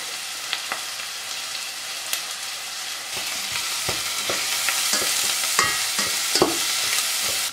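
Onions and curry powder frying in hot oil in a pot, a steady bright sizzle with occasional scraping and stirring knocks from a utensil, close and continuous with no talking.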